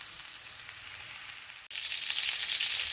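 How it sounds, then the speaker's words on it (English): Pork meatballs browning in a hot pan give a steady, close, loud sizzle with no talk, broken by one brief dip in the middle before the frying swells back a little brighter. "So what I'm going to do is brown them off on each side, probably about 3 minutes per side."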